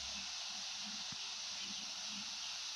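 A steady, fairly loud hiss of air escaping from a hammer-type PCP air gun with a backfire problem runs throughout, with faint low knocks and a brief thump near the middle.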